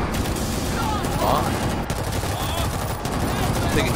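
Dense, continuous automatic gunfire from a machine gun in the zombie shooter World War Z. Loud, rapid bursts run the whole time with no break, with muffled battle noise mixed in.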